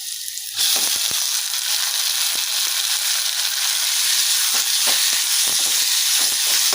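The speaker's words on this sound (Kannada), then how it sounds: "ಇವಾಗ ಟೊಮೆಟೊ ಹಾಕ್ಕೊತಾ ಇದ್ದೀನಿ ಫ್ರೆಂಡ್ಸ್" Tomatoes dropped into a hot pan with curry leaves, setting off a sudden loud, steady sizzle of frying that continues throughout with occasional stirring scrapes.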